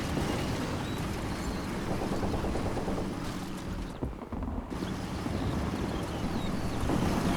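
A World War II half-track loaded with infantry drives in Combat Mission: Battle for Normandy, giving off a steady, loud, broad engine rumble with a brief dip midway and no talking.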